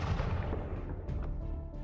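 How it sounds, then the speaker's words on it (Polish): A bomb explosion sound effect: a continuous low, rumbling boom with dense low-end energy that holds steady and rolls on for about two seconds, without any clear sharp onset. "Wtedy nastąpił wybuch."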